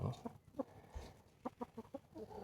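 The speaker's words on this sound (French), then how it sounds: "Et ça c'est une petite poule." A small grey Marans cross hen clucks softly nearby, a run of short, quiet, evenly spaced clucks with brief pauses between them.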